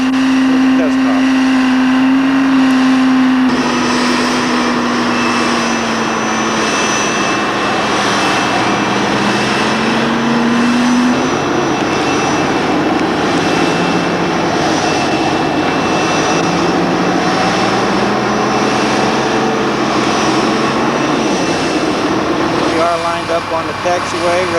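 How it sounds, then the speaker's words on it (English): Jet engines on a 1989 US Air airliner spool up after pushback, a steady loud roar with a rising tonal whine that shifts in pitch, continuous throughout, with people talking over it. "Pushing back for engine start with the test off."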